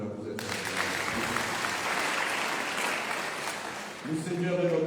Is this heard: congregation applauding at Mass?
yes